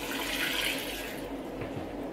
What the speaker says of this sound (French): On verse l'eau dessus.